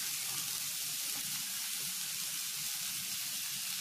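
Okra and green chillies hitting a pan of pumpkin leaves already frying for an Uttarakhand-style vegetable dish, giving a steady, close, even sizzle throughout with no speech.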